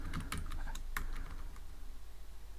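Keys clatter on a computer keyboard as Python code is entered, a quick burst of close, sharp clicks that thins out into a few scattered taps over a steady low background hum.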